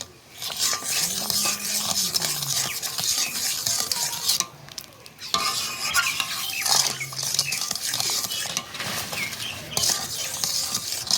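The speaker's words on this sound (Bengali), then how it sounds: "দিয়ে এবারে নাড়াতেই থাকবে" Tomato sauce for homemade ketchup, sweetened with a little sugar, is stirred steadily in a pan, with a continuous scraping, clinking stir and faint sizzle running close and fairly loud, briefly pausing twice.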